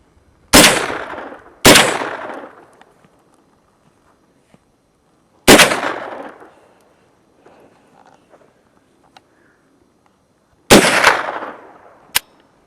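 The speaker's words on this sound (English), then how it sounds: "And we are shooting full metal jacket." A pink 9mm carbine firing factory full metal jacket rounds outdoors: four sharp, loud gunshots, two in quick succession and then two more spaced several seconds apart, each trailing off into a short echo.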